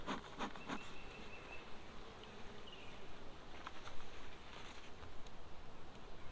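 Honeybees buzz in a steady, faint drone during a hive inspection at a farm, with a few louder passes as individual bees fly close and soft handling sounds around the open hive.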